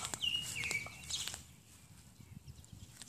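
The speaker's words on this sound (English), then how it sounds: "The birds are so loud today" Birds call outdoors, with a few bright chirps and whistles in the first second, then the scene settles into quieter rustling background noise.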